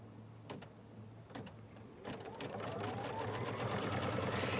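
An embroidery machine stitches down fabric, starting with a few separate thumps, then settling into a fast, steady mechanical chatter that grows slightly louder; quiet and close.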